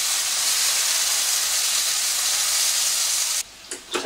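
Mushroom slices for a full English breakfast sizzle in a frying pan with a steady, bright, hissing crackle that lasts a few seconds. It then cuts away to quieter clatter.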